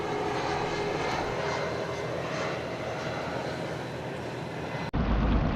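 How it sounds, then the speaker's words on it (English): Jet airliners on approach to LaGuardia Airport pass overhead, heard from a boat on the water near the city as a loud, sustained engine roar with no speech. "Jets were passing overhead as they landed at the airport."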